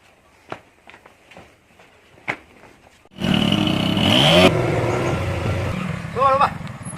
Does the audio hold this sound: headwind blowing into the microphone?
no